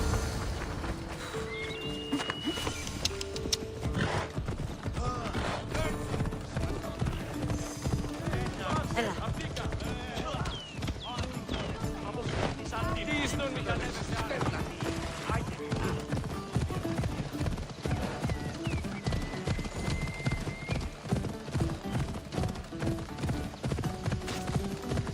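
Horse hooves pound in a fast, steady gallop during a race in Assassin's Creed Odyssey, near and continuous under game music and voices talking throughout.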